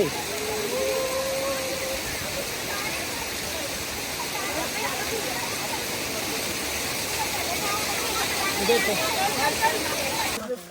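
A waterfall at Sattal near Nainital pours in a steady, loud broadband rush that fills the whole stretch, with voices and chatter mixed in over the roar.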